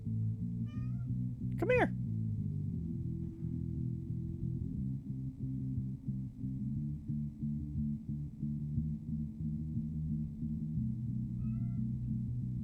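A cat meows loudly once, with fainter meows near the start and end, over steady droning game music while someone speaks softly to it.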